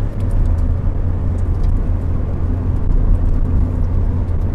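A 120-horsepower Ford Fiesta with a five-speed gearbox accelerates on the road, its engine a steady, loud rumble and whir heard from inside the cabin, continuous throughout without breaks.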